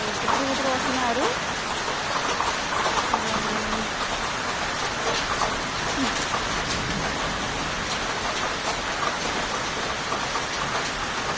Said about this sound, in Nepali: अनि असिना पानी पनि पर्यो है